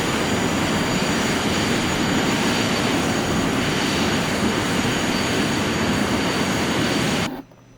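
Learjet 45 on final approach with gear down and full flaps, a loud steady broadband engine and airflow roar heard from inside that holds constant before cutting off abruptly at the end.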